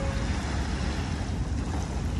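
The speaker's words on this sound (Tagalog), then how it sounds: "medyo malakas ang hangin at alon" Strong late-afternoon wind and waves at Dolomite Beach on Manila Bay: a steady, dense roar of gusting wind and surf, close and continuous, with no talking.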